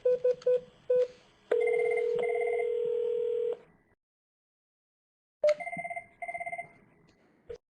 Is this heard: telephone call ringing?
yes